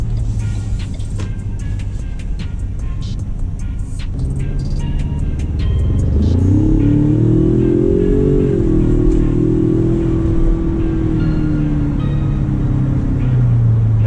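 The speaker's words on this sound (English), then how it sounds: "I'm going to get on it a little bit and drive to see how it feels." A 2019 Ford Ranger pickup with a turbo engine, on a road test, gives a steady cabin rumble that swells into a loud, rising engine note as it accelerates hard, then holds strong.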